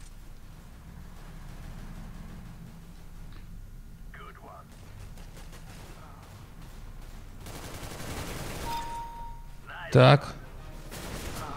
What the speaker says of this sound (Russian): Там идет перестрелка.